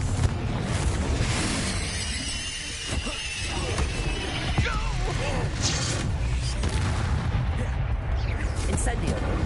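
Confringo fire-blast spells from the Hogwarts Legacy game erupt in loud booming explosions over a dense, roaring, crackling battle din, while a voice calls out spell names.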